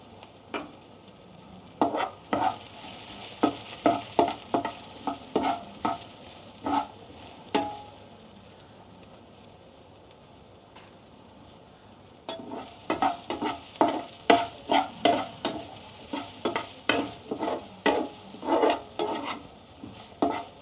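Sliced onions with a little salt sizzle in a pan for egg podimas while a spoon stirs and scrapes them in bursts of rhythmic clacks, a quieter stretch of gentle frying between two busy spells of stirring, close by.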